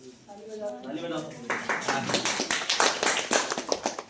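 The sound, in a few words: students clapping in a classroom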